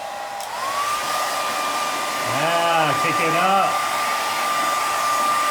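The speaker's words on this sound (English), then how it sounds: "The blow dryer is loud and it doesn't work as fast." A loud blow dryer runs steadily throughout, giving a constant whooshing roar with a high whine. A person speaks briefly over it.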